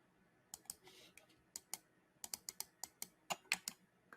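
Computer clicks close to the microphone: a quick string of sharp, quiet clicks and taps in uneven rhythm, sounding like a mouse and keyboard.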